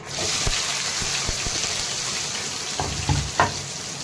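Cumin, mustard seeds and onion sautéing in oil in a pan, giving a continuous close sizzle with scattered pops and a few spoon knocks and scrapes toward the end, with no one talking.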